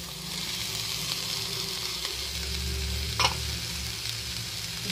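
Boiled shredded chicken fries with cabbage and capsicum, giving a steady close sizzle with soft stirring scrapes and one sharp clink near the end.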